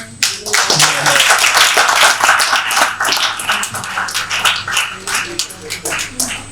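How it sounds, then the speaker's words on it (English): A conference audience at a national leasing event claps steadily for several seconds, a dense, loud patter of many hands that slowly thins toward the end. "Please let's give him another big round of applause."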